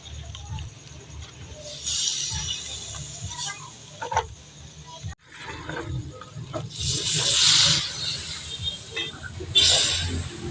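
Pork liver for a chayote stew cooks in a pan with a soft, intermittent hiss and sizzle, rising into bursts of frying alongside scraping and stirring, with a voice talking over it.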